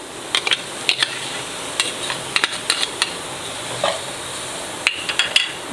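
Chicken mince with ketchup and soy sauce is stirred in a pan, a utensil scraping and clinking against the metal in irregular sharp knocks over a faint background sizzle, with no talking.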